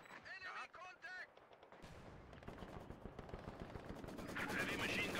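Machine gun and artillery fire in the WWII strategy game Company of Heroes 2, a soldier's voice briefly at the start, then rapid sustained machine gun bursts with heavier booming shots building in loudness.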